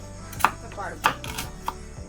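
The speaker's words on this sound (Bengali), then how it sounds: "এবারই সবজিগুলো একটু কেটে নিই চপারে কাটলে ভালো হতো কিন্তু চপারটা যেহেতু ভেঙে গেছে তাই ওটা আর বের করছি না হাতেই কেটে নিই" Vegetables chopped by hand with a knife, three distinct sharp chops spaced about half a second apart against a quiet kitchen background, no speech.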